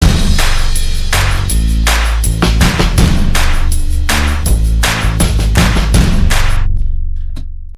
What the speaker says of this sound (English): So the bass and all the percussion layers sound like this.